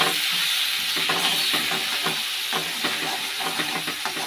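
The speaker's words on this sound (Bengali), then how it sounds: "রসুনটা একটু না ভাজলে কাঁচা গন্ধ করবে, হালকা করে একটু ভেজে নেব।" Garlic with turmeric and salt fries lightly in a pan, a steady close sizzle and hiss with a spoon stirring in irregular scraping strokes throughout.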